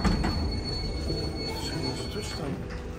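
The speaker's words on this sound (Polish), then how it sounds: "Dawaj rączkę, bo pociąg hamuje." A Polish passenger train's wheels squeal with a high, thin whine as the carriage brakes, over a loud rumbling undercarriage roar.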